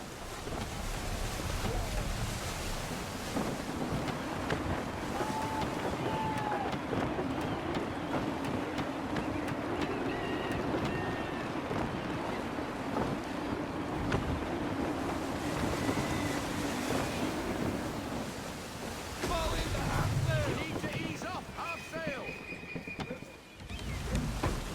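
In the Assassin's Creed 3 video game, a sailing ship cuts through waves under full sail in gusty, shifting wind, with a constant rush of surf and wind and occasional faint creaks and splashes.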